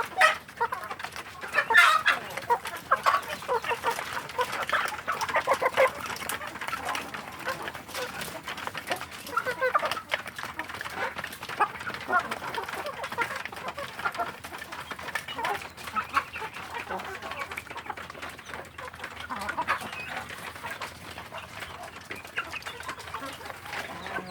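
Free-range village chicks (ayam kampung) and hens cluck and peep continuously at feeding time, a busy close-up flock chatter with occasional louder calls.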